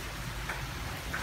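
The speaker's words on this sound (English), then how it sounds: "here comes the rain" Steady rain falling, a soft, even wash of drops that holds at an unchanging level for the whole stretch, with no voices over it.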